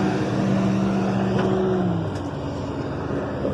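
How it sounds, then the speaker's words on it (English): Road traffic rushes past nearby on a road trip, a steady roar of engines with one vehicle droning by and fading as the noise settles. "Sorry for the traffic noise."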